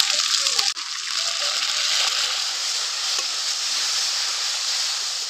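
Ginger-garlic paste and slit green chilli sizzle in oil in a pan, a steady close hiss with one brief clatter near the start.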